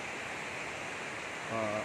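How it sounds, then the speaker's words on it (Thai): Khlong Lan waterfall in Kamphaeng Phet, Thailand, pours in a constant, even rush of falling water, with a brief voice rising over it at the very end. "ก็คือน้ำตกคลองลาน นะครับ น้ำตกคลองลานองแพงเพชร"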